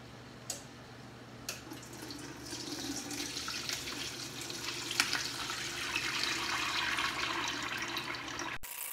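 Cooking liquid drains out of a turkey roasting pan with a steady, rushing pour that builds slightly and runs almost without a break. A couple of faint clicks come early, and no one speaks.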